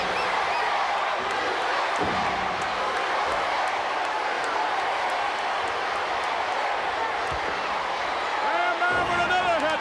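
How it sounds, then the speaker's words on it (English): A capacity wrestling arena crowd roars steadily throughout, a dense wash of cheering that roots for Bam Bam against the Russian Nikolai Volkoff, with a commentator's voice carried over the crowd. "Listen to this capacity crowd rooting for Bam"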